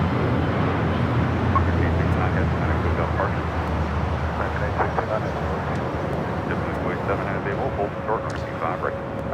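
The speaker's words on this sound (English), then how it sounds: "The American 777 flight heading to Dallas, Fort Worth, Texas, now taking off." American Airlines Boeing 777 taking off from LAX, a broad, continuous jet engine roar rumbling at a distance while a commentator talks over it.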